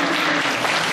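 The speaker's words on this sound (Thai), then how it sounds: "ปรบมือให้ตัวเองก่อนนะทุกท่าน" A school assembly audience of teachers and students claps for themselves after exam results are announced, a thick, loud burst of many hands throughout.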